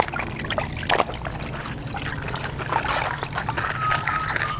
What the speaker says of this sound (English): the chamois, take it, put it in the water,